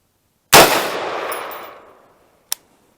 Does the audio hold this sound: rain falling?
no